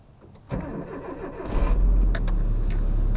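A car engine starts with a burst of cranking, then settles into a steady, loud, close idle as it warms up on a morning in Ohio, with a faint jingle of keys near the start.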